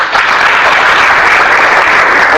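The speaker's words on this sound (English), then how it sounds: "Give him a clap." Students in a communication skills class clap for a classmate, producing loud, steady, close applause that continues without pause.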